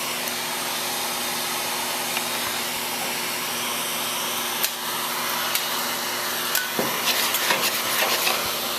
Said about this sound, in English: Now I'll use the heat gun.